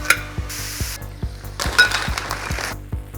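Food sizzles in a hot pan with a steady frying hiss, punctuated by regular rhythmic clicks and knocks, with bursts of brighter crackling partway through; loud and close, no talking.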